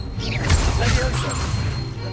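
A levitation spell is cast in the Hogwarts Legacy video game, with a sharp whooshing swell and a crash-like hit over a low rumbling game background, and a voice calls out over it.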